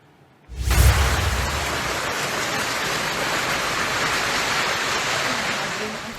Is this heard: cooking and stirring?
no